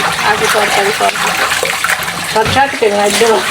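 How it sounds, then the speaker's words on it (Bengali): Raw fish being rinsed in water before cooking in a home kitchen, with sloshing and splashing under a voice talking throughout. "এই যে মাছ ধোয়া হইতেছে, রান্না শুরু হবে।"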